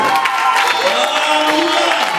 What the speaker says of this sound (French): Acclame Jésus pour sa parole.